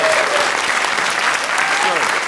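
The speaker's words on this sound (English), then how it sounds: "Let's give him a round of applause there." A studio audience on a BBC radio comedy chat show applauds a guest, a loud, even burst of many hands clapping close, sustained through the brief moment.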